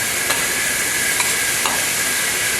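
Steady, loud sizzle of ground beef searing in a hot pan for chili, a constant hiss with a few faint scrapes, no voices.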